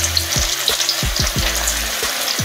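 Pieces of chicken of the woods (sulphur shelf) mushroom fry in a pan with a steady close sizzle. Several sharp scrapes and clatters come as the pieces are moved and turned.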